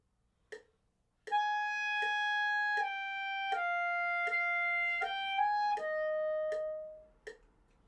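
Clarinet plays a short phrase of tied notes, each tie re-articulated with a light tongue attack, giving a clean, evenly pulsed string of sustained tones alone in a quiet room, after a single short note beforehand.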